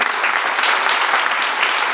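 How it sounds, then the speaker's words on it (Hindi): Loud, dense applause from an audience at a direct selling motivational talk, steady and sustained throughout with no break. "एक ताली होना चाहिए जबरदस्त तरीके से"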